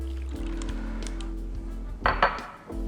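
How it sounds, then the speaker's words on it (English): Espresso poured into a metal shaker tin packed with ice for an espresso martini, a brief clinking splash with ice shifting and a few light metallic clinks, close and fairly loud, with no talking. "I'm gonna start by dumping in our espresso"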